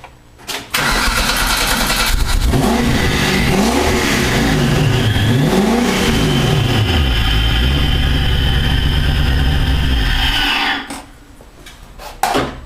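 Toyota MR2 MK3 with a V8 engine revving hard through a DIY Ferrari F430-style exhaust, loud and close: a startup, then repeated rising and falling revs before settling and cutting off near the end.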